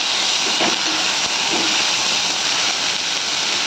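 Cowpea pods tipped into hot oil for a Maharashtrian chavali curry set off a loud, steady broadband sizzle that runs without a break, with no voices over it.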